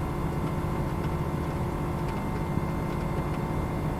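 Steady, droning engine hum of a Pitts aircraft in Microsoft Flight Simulator 2020, taking off in rain, a continuous buzzy tone with no breaks or talk.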